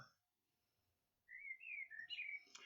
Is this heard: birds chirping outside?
yes